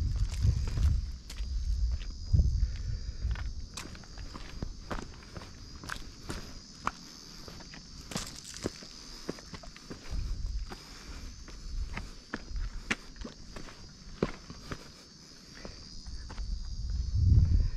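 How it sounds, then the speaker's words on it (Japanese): A cicada drones in a steady, faint, high buzz on the wooded slopes of Mount Aoba in Kansai, heard from a distance beneath nearby footsteps and rustling. "この苦しそうなセミの声をお楽しみください"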